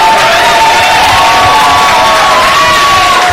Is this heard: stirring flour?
no